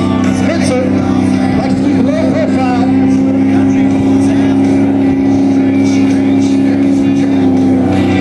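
GMC pickup truck at a charity truck pull, its engine droning steadily and loudly throughout under a crowd and announcer's voice, with no clear revving peaks.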